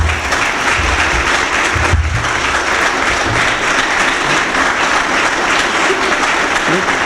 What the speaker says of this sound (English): please give a round of applause for our keynote speaker